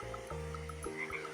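A cartoon frog croaks in an animated children's story, a few deep, resonant croaks close and clear with no talking over them.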